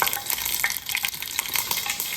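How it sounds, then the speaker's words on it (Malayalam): Mustard seeds popping and frying in a pan of hot oil, a dense, steady crackle of sharp little pops and sizzle, close and fairly loud, with no talking. "കുറച്ച് കടുക് പൊട്ടിക്കാണ്ട് കൊടുക്കാം."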